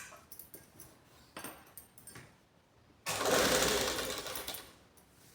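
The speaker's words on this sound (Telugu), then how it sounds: "ఇప్పుడు నేను పెద్ద కుట్టు వేసి చూపిస్తున్నా మీకు." A sewing machine runs a long burst of large stitches along the back piece of a blouse, its loud steady whir starting abruptly after a few quieter taps and handling noises.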